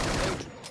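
Gunfire in the online shooter Wolfteam, a dense loud burst of shots filling the whole brief moment before trailing off.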